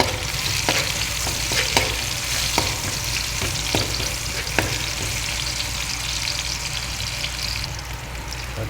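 Chili peppers and onion frying in a pan with meat drippings, a steady loud sizzle with scattered pops and stirring scrapes throughout, no voices.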